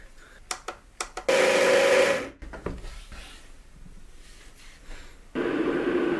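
An electric coffee grinder grinds beans coarsely for a Chemex hand drip, with a few clicks before two loud, steady whirring bursts, the first lasting about a second, then a pause and a second run starting.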